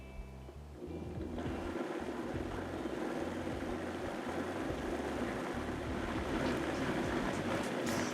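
Blender giving pasta and oysters a slow whirl, a continuous low churning drone that starts abruptly and holds steady at moderate loudness without talk.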